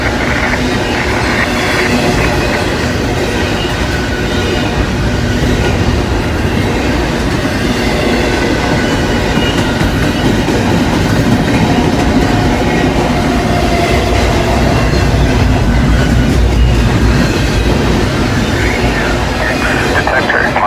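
A freight train of containers rumbles past close by, loud and continuous, with rattling wagons, clickety-clack over rail joints and occasional wheel squeal throughout.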